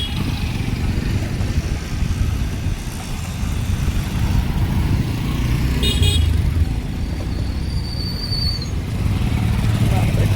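A fast vehicle passing along a busy road, with a rumbling engine, a brief horn toot, and steady traffic noise nearby under conversation.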